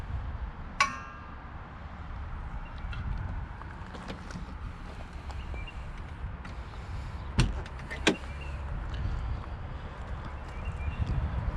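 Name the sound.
closing the door of a 1968 MG C GT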